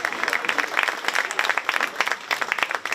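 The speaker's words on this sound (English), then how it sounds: "Let's give all these exhibitors in your heavyweight division a big round of applause" Spectators at a county fair 4-H swine show give the heavyweight-division exhibitors a round of applause, steady, dense, moderately loud clapping from a crowd filling the whole stretch.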